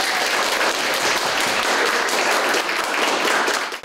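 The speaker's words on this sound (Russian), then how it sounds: "Эти аплодисменты как знак уважения" Dense audience applause from many hands fills the space steadily and loudly for a few seconds before tapering at the end.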